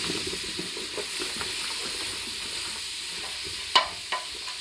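Vegetables for potato, bacon and leek soup frying in a pan as they are stirred, a steady soft sizzle under light scraping, with two sharper clacks near the end.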